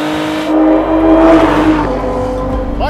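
A supercharged V6 engine in a 2023 Lotus Emira, a Camry-derived V6 with a Lotus supercharger, revs up close by, its loud rising growl and whine swelling and settling over a few seconds.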